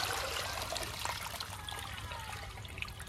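Water trickles and dribbles steadily from a fish trap set during rainy-day fishing, a continuous close wash of liquid with no talk over it.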